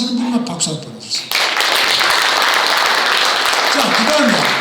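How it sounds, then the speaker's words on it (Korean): A lecture audience at a Korean UN volunteer CEO summit course bursts into loud, steady applause after a second of talk, the clapping continuing thick and even to the end. "잘한다고 생각하시는 분만 박수 한번 보내주세요"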